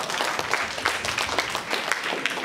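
A hall audience at a World Cancer Day ceremony in a Bali hospital claps together, a dense, continuous patter of hands lasting throughout with faint voices mixed in.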